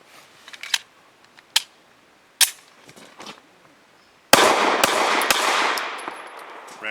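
A Remington R51 pistol fires Browning 147 grain subsonic rounds, a string of sharp, separate reports at uneven intervals, then a louder blast followed by sustained ringing noise.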